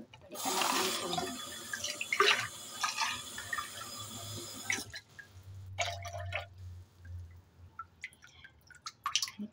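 Water drips and trickles from a recycled plastic bottle used for watering indoor plants and succulents, with close, irregular splashes and bursts of running water separated by quieter gaps.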